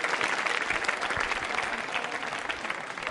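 Audience applause at a school quiz show, steady loud clapping from a crowd filling the whole moment without pause.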